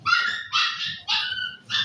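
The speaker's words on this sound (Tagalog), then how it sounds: "Ingay ng aso." A dog barks four times in quick succession, loud and close, with short sharp yaps spaced about half a second apart and no talking.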